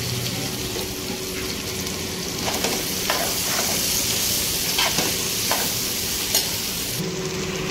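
Eggplant pieces fry in a pan for a prawn and raw mango curry, a steady loud sizzle with occasional scraping and stirring knocks, close up and free of talk.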